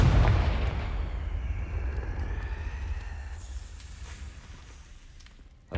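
Confringo fire spell from Hogwarts Legacy hits with a heavy, deep explosive boom right at the start, then a long rumbling decay that fades over several seconds before a sharp new burst at the end, with no talk.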